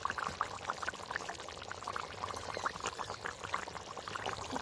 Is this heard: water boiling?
yes